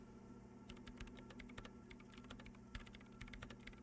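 Faint, steady typing on a computer keyboard in the game Disco Elysium, a continuous patter of soft key clicks with irregular rhythm over a low, constant machine hum.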